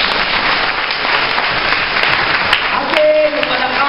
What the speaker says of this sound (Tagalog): Palakpakan natin ang Diyos.